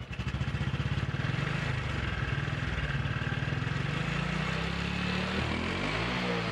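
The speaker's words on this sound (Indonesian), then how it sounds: "Saya hidupkan dulu motornya. Ini sobat ya, ketika gas saya tarik pelan-pelan," A fuel-injected motorcycle engine runs steadily near at hand as the throttle is eased open slowly, its dense pulsing idle thickening into a rising rev without a break.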